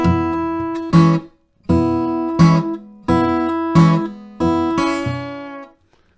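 Acoustic guitar played fingerstyle, sounding five separate pinch strokes that pluck two treble strings together with a bass note, each ringing chord decaying before the next in an even, unhurried rhythm, close and clear with no talking.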